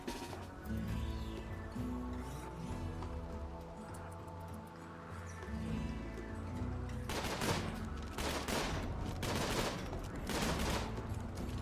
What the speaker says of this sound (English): Let's go shoot him.